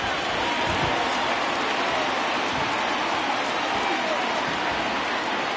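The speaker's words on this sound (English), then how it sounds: "the rain starting to intensify here" Steady heavy rain pours over a ballpark in the baseball video game MLB The Show 20, a dense continuous hiss filling the whole stretch, with faint crowd murmur beneath.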